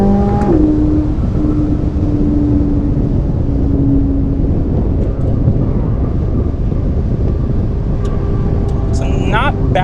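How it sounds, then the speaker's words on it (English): A Corvette C8 Z06 fitted with a 91mm throttle body pulls hard, its loud engine drone rising steadily and continuing for the whole stretch amid heavy road and wind noise. "So let's do a quick little pull."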